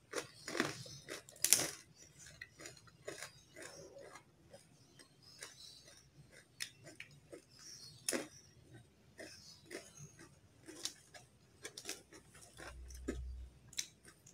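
Crispy homemade soybean rempeyek crackers, fried without oil, are bitten and chewed close up, giving quiet, irregular crunches and crackles over about fourteen seconds.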